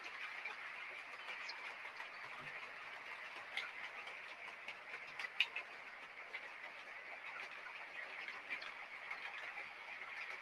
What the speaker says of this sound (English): Can you hear the birds? They're really nice.